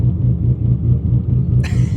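Idling 1300 hp twin-turbo Shelby GT350 with a ghost cam, a loud, deep, rhythmic lumpy rumble that pulses evenly close by, with a brief brighter burst of noise near the end.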